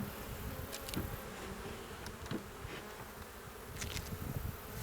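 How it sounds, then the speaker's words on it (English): Honeybees swarm around an opened hive during a frame-by-frame inspection, their buzzing a steady, moderately loud drone with brief louder passes as individual bees fly close. "You can see how active the bees are."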